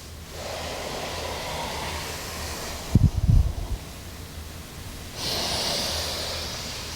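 Deep breathing during a Pilates-inspired core abs workout: a hushed breath sound runs steadily, with a sharper, louder exhale burst in the middle, then a brighter airy breath toward the end, close and without talk.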